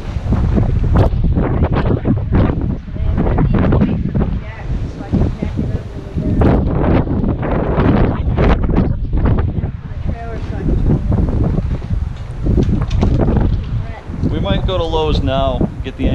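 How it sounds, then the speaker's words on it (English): Strong wind of the Nor'easter storm Riley buffets a sailboat at anchor, roaring loud and steady with gusting surges throughout, while people talk over it. "let the wind settle down a little more if it can."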